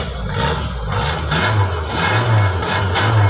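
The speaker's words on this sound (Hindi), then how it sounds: "देखें, गाड़ी स्टार्ट है, पीछे जाएं आप, मैं रेस देता हूँ" A 1998 Suzuki Margalla car's engine is revved up and held at a loud, rising drone, close by and steady with no voices.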